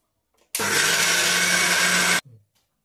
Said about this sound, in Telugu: నేను గారెలకి అయితే అల్లం వేసి మిక్సీ అయితే వేస్తున్నానండి